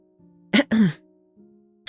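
A single sharp cough followed by a throaty clearing, close and distinct against a faint background hum, with a small click at the end.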